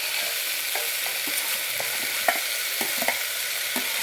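Vegetables sauté in a pan for a millet vegetable biryani, with a steady close sizzle and occasional light clinks of stirring throughout and no talk.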